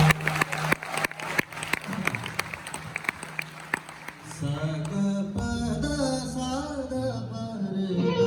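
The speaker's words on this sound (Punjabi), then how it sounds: "ਕੋਈ ਜ਼ੋਰਦਾਰ ਤਾੜੀ ਮਾਰੋ" Audience at a live poetry and ghazal concert in Seattle claps in a burst of sharp hand claps over the first few seconds, which gives way to sustained instrumental music.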